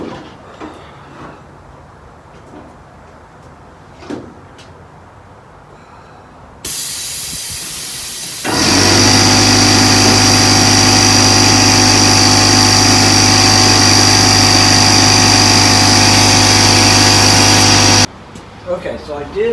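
Pneumatic riveting of 4.8 mm stainless steel rivets on aircraft elevator work: after quiet handling, a compressor-like hiss starts, then a loud sustained tool roar for about ten seconds before cutting off.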